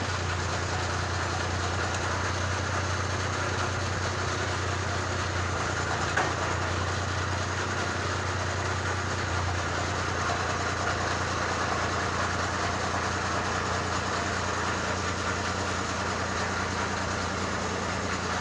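A truck engine idles in a steady, unbroken low rumble with a constant hum and vibration, close and even throughout, with no other sounds standing out.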